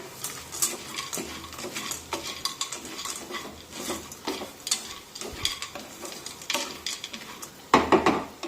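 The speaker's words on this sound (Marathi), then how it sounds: "आता या मसाल्यामध्ये हे भाजून घेतलेले सांडगे टाकूया। मिक्स करून घेऊया।" A utensil stirs roasted sandge lentil dumplings into a spice masala in a pan, giving repeated scraping and clinking strokes at an irregular pace with a soft sizzle beneath.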